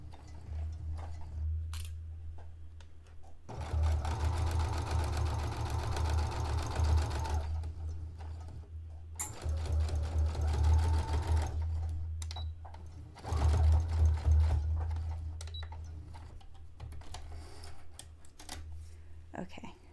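Sewing machine back stitching along the edge of a dress sewn from bed sheets, several bursts of rapid mechanical whirring separated by pauses, with faint talk between runs.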